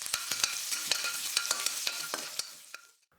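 Chopped garlic and green chilies fry in hot oil in a pan for radish egg rice, giving a continuous loud sizzle with repeated scraping clicks from stirring, fading out near the end.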